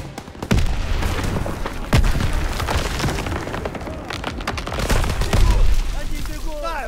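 Gunfire and explosions from the World War II video game Call of Duty WWII: dense rapid rifle and machine-gun bursts with heavy booms, loud and continuous, while a voice calls out over the battle.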